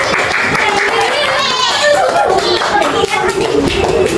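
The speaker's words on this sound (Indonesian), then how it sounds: "berikan tepuk tangan untuk kelompok 1" Fifth-grade classmates clap for the first presentation group in a classroom, a loud, busy patter of hands mixed with children's chatter and voices.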